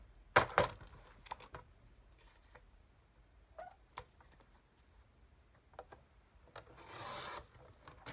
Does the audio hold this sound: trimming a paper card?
yes